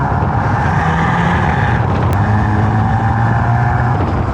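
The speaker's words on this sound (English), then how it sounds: "quad exhaust pipes, which sound like this." Steady, loud engine drone from a 2023 VW Tiguan R with quad exhaust pipes and a Golf R engine, a continuous low rumble held close to the microphone.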